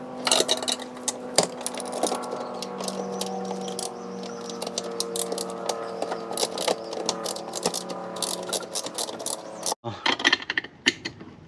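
A ratchet tightens a brake master cylinder bolt during a Civic to Integra brake master cylinder and booster swap, giving a long run of rapid, close clicking and then a short burst of quicker clicks after a brief pause.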